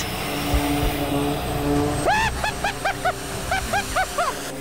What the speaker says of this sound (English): The RPM of the turbine was steadily increasing.